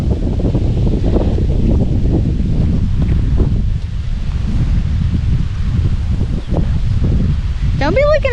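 Strong wind buffeting a bluff, a loud continuous rumbling roar against the microphone with gusty surges, plus a brief voice near the end.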